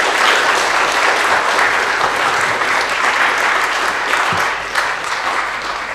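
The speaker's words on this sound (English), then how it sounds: "So please, a round of applause for our speakers." An audience at a Southeast Asian climate action conference claps for the speakers at the close of the first day, with steady dense applause from a large room lasting throughout.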